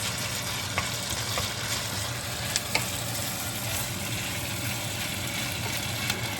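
Onions cook in a pan for a taco dip, a steady close sizzle and crackle of frying with occasional light taps of a utensil, no voices.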